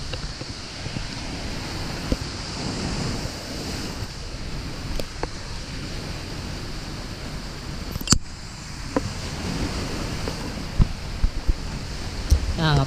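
Ocean waves breaking on a shore, a continuous loud wash of surf with swelling crashes, mixed with heavy wind buffeting the microphone and a few faint knocks.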